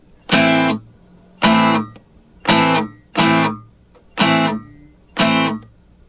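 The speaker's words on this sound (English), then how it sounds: "Now what we want to do is put emphasis on certain down strums, so it sounds like this." Six separate loud guitar strums of the strumming pattern ring out one after another with short gaps between them, each a bright accented down stroke left to decay.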